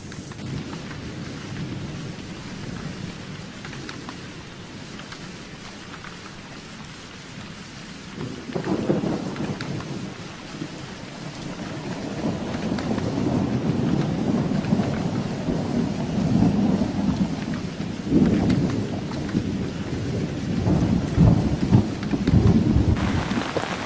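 Heavy rain pours steadily during monsoon flooding near Deesa, with low rolling thunder swelling and rumbling repeatedly through the downpour.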